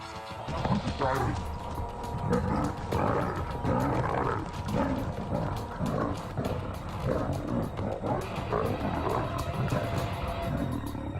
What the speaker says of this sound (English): The first encounter turns into a cat fight.